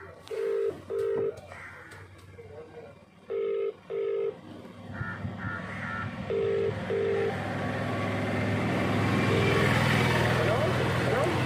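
Touch-tone keypad beeps as a phone number is dialed in an office, short evenly paced tone pairs in several clusters, close and clear, with someone speaking and background hum building toward the end.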